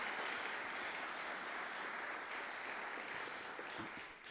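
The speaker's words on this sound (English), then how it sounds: "let's give them all a rousing round of applause" An audience at a school celebration of excellence applauds in a steady, even wash of clapping heard from a distance, sustained throughout and fading slightly at the very end.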